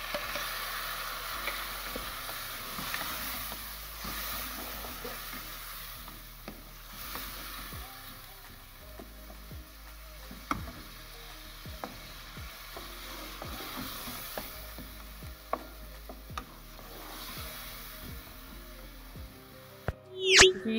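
Three large tomatoes sizzle and fry in a pan while being stirred during preparation of shahi mixed saag, a steady close sizzle with frequent scraping stir strokes throughout and a sharper clatter at the very end.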